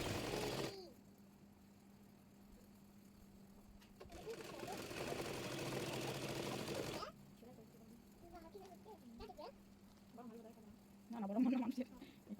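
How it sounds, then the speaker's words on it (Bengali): A sewing machine stitches a salwar hem in short bursts, once at the very start and again in a few-second run in the middle, faint and close, with a voice and other quiet talk around it. "এবার মোহরিটি মুড়িয়ে সেলাই করে নেব।"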